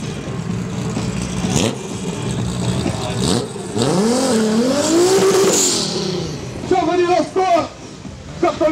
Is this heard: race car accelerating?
yes